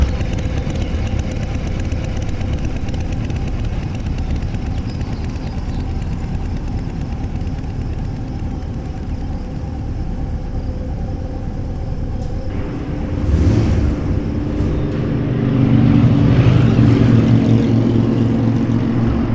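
A motorbike engine hums steadily at a low idle, then swells louder near the end as the bike stops and turns back toward a graveyard by the jungle; no talk is heard.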